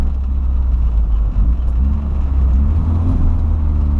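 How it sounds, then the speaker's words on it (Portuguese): A Porsche Cayenne SUV drives past on a neighborhood street, a steady, loud low engine rumble that holds through the whole stretch with a slight swell midway and no talking. "Porsche Cayenne na quebrada"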